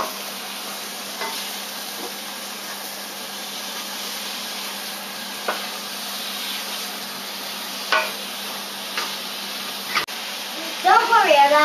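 Bacon crisps in a pan for a coq au vin, a steady close sizzle running throughout, with a few soft clinks of stirring and a brief sharper scrape near the end.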